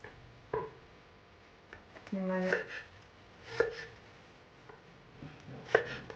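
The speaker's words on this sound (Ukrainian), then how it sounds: "Зараз буду нарізати імбир." A kitchen knife cuts fresh ginger into thin strips on a board, with a few sharp, scattered strikes spaced apart, fairly quiet and close, with a brief murmur partway through.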